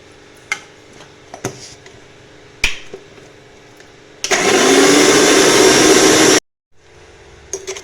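A blender grinds garlic into paste in a loud, steady whir lasting about two seconds before cutting off abruptly, preceded by several sharp clicks and taps.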